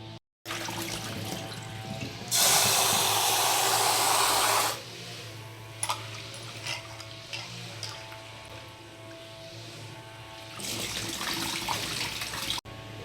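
Tap water gushes loudly for a couple of seconds while washing flattened rice, stops amid quiet handling noises, then runs again near the end.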